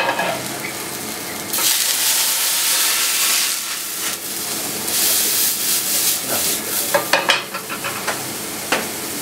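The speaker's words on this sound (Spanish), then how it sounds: "vamos a flambear, en este caso, con un poquito de whisky" Fish toast flambéed with whisky in a hot pan, a loud burst of sizzling and steamy hiss with stirring and a few sharp crackles and spits, no voices.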